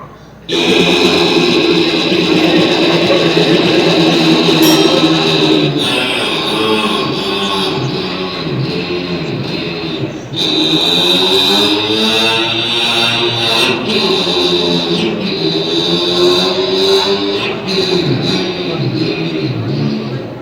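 A mimicry artist imitates an RX motorbike with his voice, a loud, sustained buzzing engine note that rises and falls in pitch like revving, with one short break midway.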